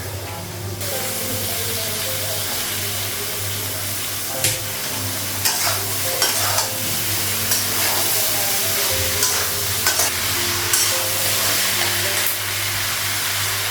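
Sliced ridge gourd frying in hot oil with spices in a home kitchen, a loud steady sizzle and hiss with intermittent scraping stirs of a spatula against the pan.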